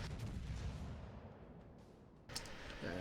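Heavy 15-inch naval guns of the Bismarck firing in a naval battle game, a deep rumbling boom that rolls off, then a sharper second blast near the end.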